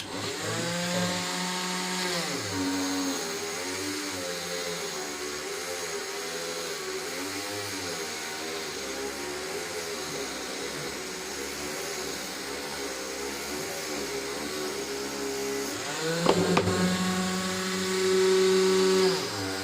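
Power sander working a carved wooden seahorse sculpture, a steady loud motor whine with shifting harmonic pitch running throughout, rising briefly near the end.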